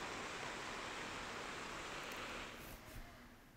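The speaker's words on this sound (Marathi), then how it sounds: "इंद्रायणी नदी सध्या दुथडी भरून वाहतीये" Steady, dense rushing roar of the Indrayani river in full flood at Dehu, heavy monsoon water surging over the ghat steps, continuous broadband wash with no voices.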